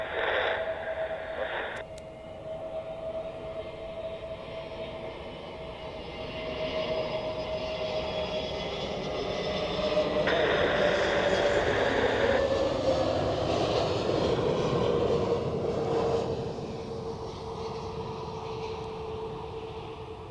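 An Iberia Airbus A320neo lands at Zurich Airport with a steady engine whine over a rushing roar that builds through the middle and then eases off.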